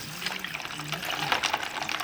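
Water poured into a plastic bag of ice, a steady close splashing and trickling gush that lasts a couple of seconds, with a voice faintly present underneath.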